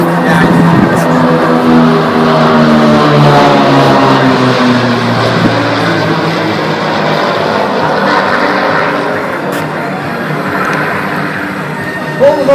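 Propeller aircraft of an aerobatic flight team at the Chicago Air & Water Show diving overhead, a loud sustained engine drone that swells and shifts in pitch as they pass.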